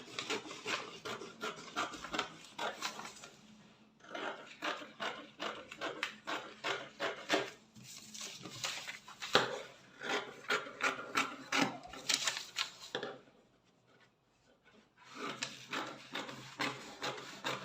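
Scissors cut through a paper corset pattern draft in a long run of quick, rhythmic crisp snips and rustles, close and fairly quiet, with two brief pauses and no talking.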